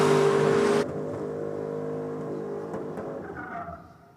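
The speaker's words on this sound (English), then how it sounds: "Here we go, the big V8's winding it up." Nissan Patrol V8 at a night 4WD racing event, a loud roaring rev that cuts off sharply, then a lower rumbling engine tone that fades away, with no voices over it.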